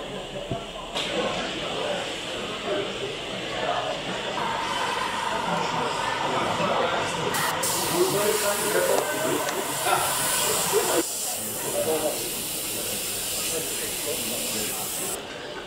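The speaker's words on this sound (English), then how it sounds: "When we work with the airbrush, it's like a filter." An airbrush sprays a light layer of acrylic paint with a constant soft hiss that runs throughout while people talk over it.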